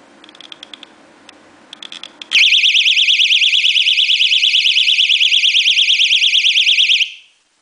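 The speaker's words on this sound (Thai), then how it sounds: "เสียงตัวนี้ดังอยู่ที่ 120 เดซิเบลนะครับ ลองฟังเสียง 120ดิซิเบลดู" After a few faint clicks, a 120-decibel personal alarm bursts on and wails loudly in a rapid warbling tone for about five seconds, then cuts off.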